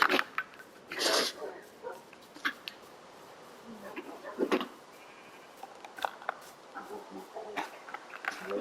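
Sheep in the Minecraft video game bleat in a few short, separate cries, with quiet gaps between them and faint background sounds.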